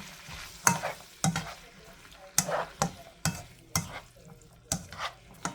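Ground beef and pinto beans being stirred in a pan, with a soft sizzle under a regular series of scraping strokes from a spoon, about nine evenly spaced scrapes, fairly close and quiet.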